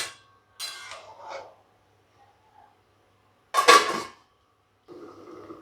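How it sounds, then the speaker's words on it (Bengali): A metal lid set back onto a cooking pot of potato curry gives a couple of light clinks and one sharper clatter, with quiet gaps between and a faint sizzle or hum at the end. "এবার আবার ঢাকা দিয়ে দিলাম।"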